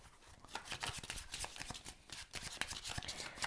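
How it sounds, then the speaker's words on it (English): Playing cards being shuffled by hand during a CloudAge board game session, a quick series of riffling flutters and soft slaps, close and fairly quiet with no talk. "I'm going to shuffle my cards."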